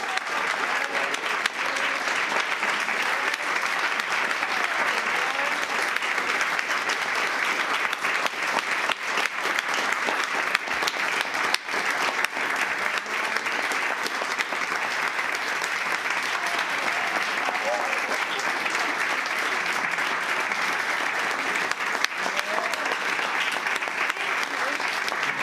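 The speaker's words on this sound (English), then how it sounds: "Well, you think this applause was loud." Sustained, loud applause from a concert lobby audience fills the whole stretch, a dense even roar of clapping with no break.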